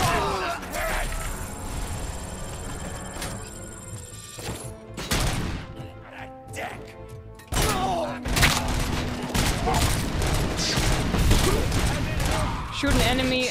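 Gunfire in RoboCop: Rogue City, bursts of rapid shots and heavy impacts with thuds and crashes, loud and close, while a player talks over the action.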